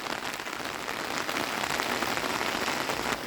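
Heavy rain pours onto a rooftop in a mountain village, a dense, steady hiss of drops striking the surface close by, constant throughout with no voices.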